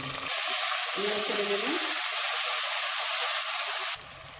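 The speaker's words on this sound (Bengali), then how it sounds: "পেঁয়াজ পেঁয়াজ বাটা দিয়ে আমি পেঁয়াজটা ভেজে নিলাম" Onion and onion paste frying in oil for a whole cauliflower roast, a loud bright hiss holding steady for several seconds close up, with a short tonal whir early on before the sizzle drops away.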